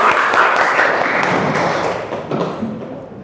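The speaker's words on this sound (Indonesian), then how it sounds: "tepuk tangan untuk kita semua" A school class clapping hands together in a social studies lesson: dense, loud clapping that fades gradually toward the end.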